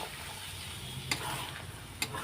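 Eggs frying with spices in a pan, a faint low sizzle with occasional stirring and two sharp utensil clicks against the pan.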